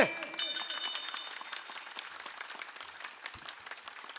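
Dense applause from an audience at a kirtan in Tandulwadi, loud at first with quick overlapping claps that gradually thin and soften, and a voice briefly audible near the start.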